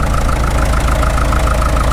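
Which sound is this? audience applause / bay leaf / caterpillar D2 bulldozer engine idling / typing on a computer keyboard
caterpillar D2 bulldozer engine idling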